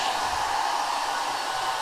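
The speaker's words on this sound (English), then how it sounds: "the hair dryer has different modes. I'm gonna put it to the highest." Hair dryer running on its highest setting, powered from a portable power station: a loud, steady, close whine and airflow roar that stays constant throughout.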